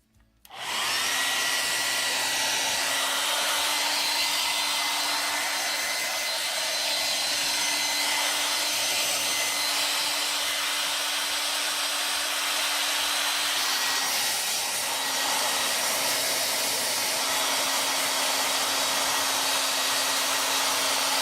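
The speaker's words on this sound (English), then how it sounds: "I think this is Winston's first experience with a hairdryer." A hair dryer blowing continuously at close range on a dog, a loud steady roar with a constant motor whine that shifts slightly in pitch partway through, running alone without talk.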